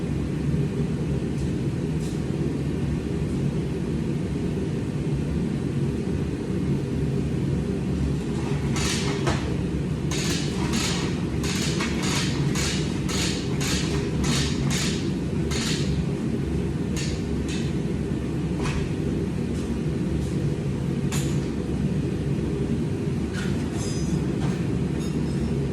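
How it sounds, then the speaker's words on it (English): An air hose blowing out the fuel tank of a John Deere 4850 tractor: a run of short, sharp hissing blasts in quick succession over a constant low rumble, then a few scattered bursts. "Blow it out, air hose."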